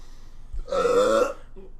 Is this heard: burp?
yes